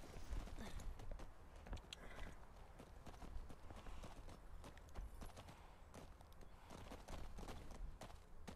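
Horse hooves clip-clopping in The Last of Us Part II, a steady walking rhythm of soft hoof falls heard quietly and alone, with no talk over them.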